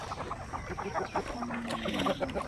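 Native chickens cluck in a soft, busy chatter of short calls, faint and somewhat distant, with no talk.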